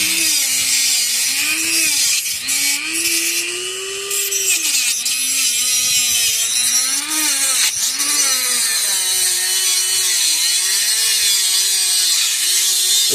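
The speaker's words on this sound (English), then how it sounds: "we're using my Dremel 3100, which is one of my newer Dremels" A Dremel 3100 rotary tool cuts steadily with a loud, continuous high whine whose pitch rises and dips as load changes, close up and uninterrupted, with no voices.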